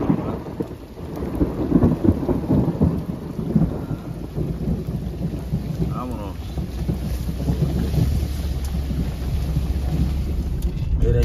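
Heavy rain pours down steadily with rumbling thunder during a storm near El Zapote, a dense continuous wash of sound throughout, with faint voices now and then.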